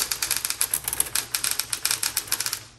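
A 1970s Smith Corona Electra 110 electric typewriter rattles out a fast, even run of close, crisp key strikes, without a clear carriage return, no voices present.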